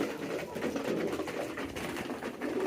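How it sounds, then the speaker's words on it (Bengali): Pigeons cooing at a pigeon farm, a continuous low burbling murmur close by, with steady background noise and no clear talk. "এই যে দেখেন কি অবস্থা করতেছে কবুতরটা"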